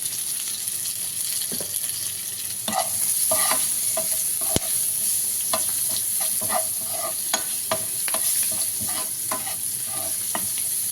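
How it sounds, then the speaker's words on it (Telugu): Curry leaves and cumin seeds frying in hot oil in a pan, a continuous close sizzle with scattered small pops and crackles, plus light stirring, steady throughout and free of talk. "అలాగే కరివేపాకు కొంచెం ఫ్రై చేసుకున్నాము"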